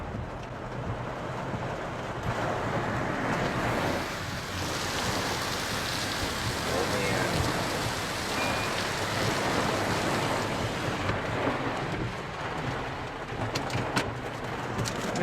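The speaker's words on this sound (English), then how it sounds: "Taking a hail core here, just small hail, about pea-sized" Pea-sized hail pelts a car during a storm, a dense, continuous hiss and patter heard from inside, steady and fairly loud with wind noise, a few sharper ticks near the end.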